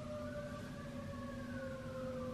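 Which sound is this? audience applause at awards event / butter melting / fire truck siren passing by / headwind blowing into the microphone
fire truck siren passing by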